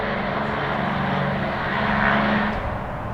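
An airplane flying overhead gives a steady broadband engine roar that swells slightly toward the middle, fairly loud, with no talking.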